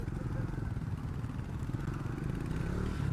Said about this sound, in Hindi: यहाँ पर बाइक से, बाइक से भाई विनायक आगे निकल गया